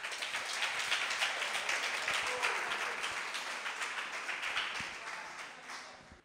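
Audience applause as a singer walks onto the stage at a talk event, a dense steady clapping that swells early and fades gradually toward the end, with no voices over it.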